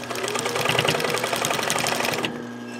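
A sewing machine back stitches across plastic while making a roller towel, its rapid even whirring loud and close for about two seconds before stopping into a low hum.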